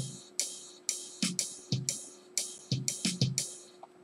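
The Swing preset on a Yamaha DD-5 digital drum kit plays a lilting pattern of electronic hi-hat or cymbal taps over kick and snare hits, close and clear with no voices.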